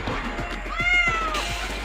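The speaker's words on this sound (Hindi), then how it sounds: "मेरी बिल्ली मर जाएगी।" A cat meows once in a drawn-out, wavering cry during a crowded game-show challenge, riding over a steady murmur and soft rhythmic thumps in the background.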